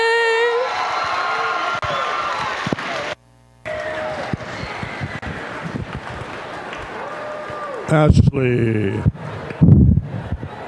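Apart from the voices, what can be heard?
audience applause after the national anthem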